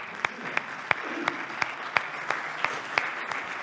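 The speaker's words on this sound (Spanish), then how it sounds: "Así que pido ya para él un fuerte aplauso." An audience at an AI summit session gives applause for a speaker, a light, fairly sparse clapping with distinct individual claps standing out in an even rhythm, moderately distant in a large hall.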